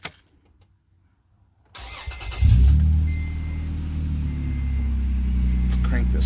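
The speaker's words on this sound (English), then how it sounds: "We're going to start it up here" Toyota Tacoma truck engine starting after near silence, a starter crank followed by the engine catching with a loud rising roar that settles into a steady idle, close by.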